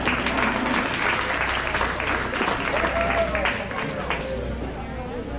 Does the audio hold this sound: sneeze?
no